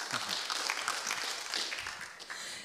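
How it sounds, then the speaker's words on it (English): An audience at the 5G Hub Innovation Challenge final applauds in a steady, dense patter of many clapping hands, heard from a distance and fairly faint, with some voices mixed in. "Stefan, please, big round of applause."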